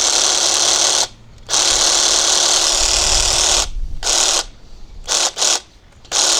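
An Ozito PXRSS-400 cordless reciprocating saw runs unloaded with a loud, steady buzzing whine, cutting out briefly several times and restarting in short bursts near the end.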